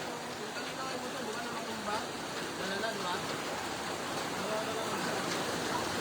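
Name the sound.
heavy rain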